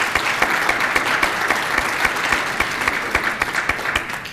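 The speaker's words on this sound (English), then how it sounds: "So I think a round of applause for that." Audience at a mental health symposium presentation clapping in a steady, sustained round of applause, dense and even throughout with no voices over it.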